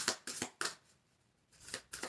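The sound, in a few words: tarot cards being shuffled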